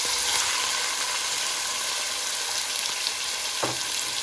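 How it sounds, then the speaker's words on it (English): Steady, busy sizzling and crackling of chicken frying in hot oil in a pot, close and continuous with no talking. "that sizzle that we hear is a good indication that our oil was hot enough for our chicken"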